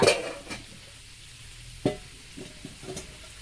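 Green curry is stir-fried in a pan, with a soft sizzle running underneath and a few scattered scrapes and knocks of a utensil against the pan, heard close by with no talking.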